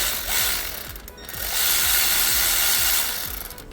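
A ratchet fitted with a short 10mm socket turns a bolt on a 12th-generation Toyota Corolla E210 during coolant water pump work, giving a steady run of quick, evenly spaced clicks under a broad, hissy background.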